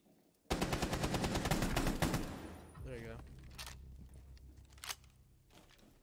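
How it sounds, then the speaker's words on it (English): Rapid automatic gunfire in a first-person shooter game, a loud sustained burst of shots lasting a couple of seconds, followed by scattered quieter shots and clatter, with a person talking over parts of it. "there's somebody right in front of us shooting into this room"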